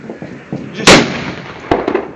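New Year's firecrackers go off in sharp cracks, one loud close blast followed by several smaller pops and a second bang, each ringing briefly against the surroundings with no speech.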